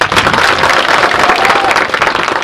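Loud, dense applause from a crowd of secondary school students at a school gathering, continuous and close, with a busy wash of hands and voices throughout.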